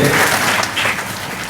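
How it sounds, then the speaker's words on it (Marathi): Audience at a student award ceremony in Kopargaon claps for teachers, dense sustained applause filling the room, loud and continuous throughout. "आपल्या शिक्षकांनी आपल्यासाठी जी अहोरात्र मेहनत घेतली त्यांच्यासाठी देखील जोरदार आपण एकदा टाळ्या वाजवल्या पाहिजे"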